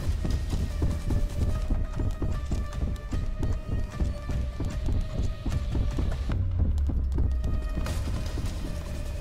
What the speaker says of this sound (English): these footsteps are getting a bit too close for me